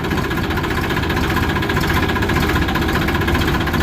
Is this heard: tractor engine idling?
yes